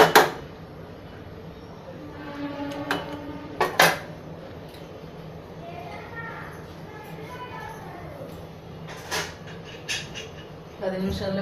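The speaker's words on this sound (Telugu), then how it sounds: "మూత పెట్టి క్లోజ్ చేసేస్తున్నాం" A lid goes onto a pot of vegetable biryani with sharp metallic clanks and scrapes of cookware at the start and again around midway, a few lighter knocks later, over a low steady background.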